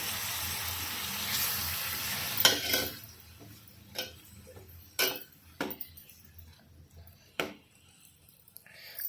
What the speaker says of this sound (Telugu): నెక్స్ట్ టమాటాలు, ఒకసారి మళ్ళీ కలుపుకోవాలి.